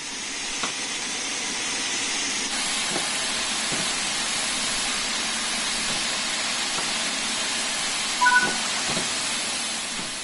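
A video-game steam locomotive departing a station with its cylinder cocks open, giving a continuous loud hiss of escaping steam with faint mechanical knocks and clanks beneath it.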